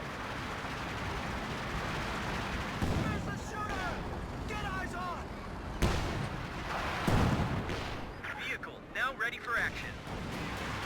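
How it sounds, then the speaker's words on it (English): Rocket barrage from a Calliope in Company of Heroes 2, a battle game, heard as rumbling explosions under constant talk, with a few heavier booming impacts and whistling streaks. "Calliope once again throwing off a barrage."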